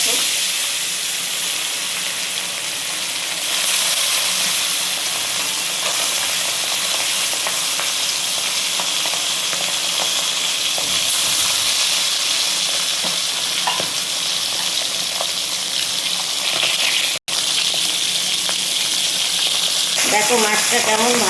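Parshe mullet fish fries in hot oil in a pan, a steady close, loud sizzle with crackling and spitting bursts that continues throughout, briefly cut by a moment of silence near the end.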